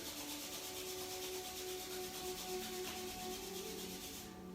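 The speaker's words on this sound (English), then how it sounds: "let's start by rubbing the palms together to create heat." Palms rubbing briskly together during a morning yoga practice, a faint, continuous dry swishing friction that stops just before the end.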